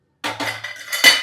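A metal cooking pot is set down on a kitchen stove, giving a few close, sharp clanks and clinks in quick succession.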